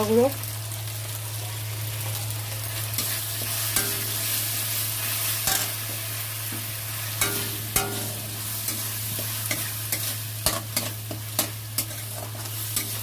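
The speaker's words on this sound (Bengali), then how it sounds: "ভালো করে কষাতে হবে প্রথম পেঁয়াজ আর কাঁচা লঙ্কা বাটা একসাথে দিয়েছি" Onion and green chili paste masala being sautéed in a pan, a constant sizzle under repeated sharp spatula scrapes and knocks against the pan, with a low steady hum in the background.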